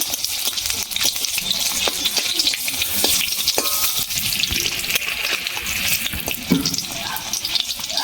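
Cabbage dhoka cakes frying in hot oil in a home kitchen, giving a steady, close sizzle with occasional clicks and scrapes of a utensil in the pan.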